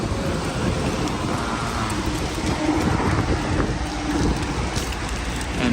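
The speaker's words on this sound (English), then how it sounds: "And my goodness, is the wind blowing" Strong wind blows outdoors near Moab beside a parked motorhome, a loud continuous rushing roar buffeting the microphone with gusty rumbling throughout.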